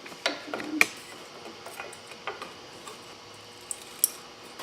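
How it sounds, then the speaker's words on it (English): Car brake caliper being pried off: scattered metallic clicks, taps and scrapes at close range, with a couple of sharper ticks over a quiet background. "Now we're going to pry this off. Prying off your brake caliper."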